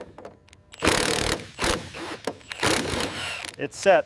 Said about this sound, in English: Torquing the final bolt now.